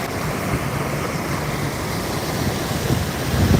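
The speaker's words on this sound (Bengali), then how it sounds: "ইঞ্জিন তো ভালো বেগে চলতেছে" A ship's engine running at speed on a boat bound for Sandwip roars as a loud, steady broadband rumble mixed with wind and rushing water, with no talking.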